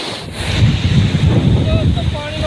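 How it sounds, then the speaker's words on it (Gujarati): Strong rush of water flowing out of a full village dam, a steady broad roar with wind buffeting the microphone throughout, no voices over it. "જોઈ લો આ રીતના પાણી જાય આપણા ડેમનું"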